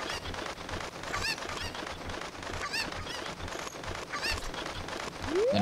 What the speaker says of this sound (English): But we never did Andrew's chickens. So let's do that real quick.